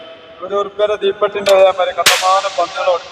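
A toy matchstick cap gun at a Kerala market cracks with one sharp, bright pop standing out, amid clicks and a nearby voice talking around it.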